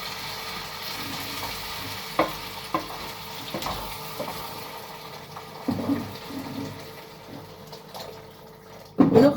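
Hot water poured over rice in a cooking pot, a soft watery rush with faint stirring and clinks, quiet and low throughout, swelling into a louder splash of pouring near the end.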